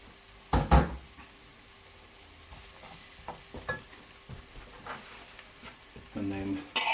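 Onions and bacon frying in a pan give a faint, low sizzle, broken by clanks and knocks from stirring and handling the cookware close by.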